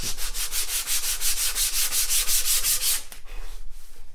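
Rapid back-and-forth strokes of sandpaper rubbing a wooden guitar neck by hand, a close, rhythmic scratchy rasp that slows and softens near the end.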